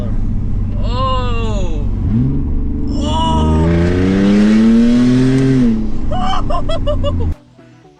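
An Audi S4 3.0T swap in an A4 Avant revs hard with the hydraulic exhaust cutout valve open, rising and falling in loud, raspy sweeps before cutting off abruptly, with a brief exclamation from a person partway through.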